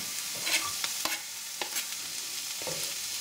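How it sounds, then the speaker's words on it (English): Garlic added to softened, colouring onions frying in a pan for moussaka, a soft steady sizzle with a few stirring scrapes and taps, fairly quiet and with no talking. "our onions are nicely cooking now, colouring up. So what I'm going to do, I'm going to add in my garlic."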